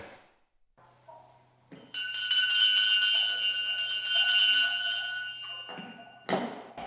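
A bright metallic school bell rings continuously for several seconds at a first-bell ceremony in Rivne, Ukraine, with a sustained tonal shimmer, preceded and followed by faint background noise and a brief clatter.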